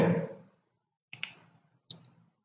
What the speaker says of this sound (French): On clique sur OK.